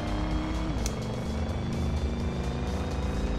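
A turbocharged car engine in the Street Legal racing game holds a loud, steady harmonic drone, with its pitch dipping slightly as it runs continuously.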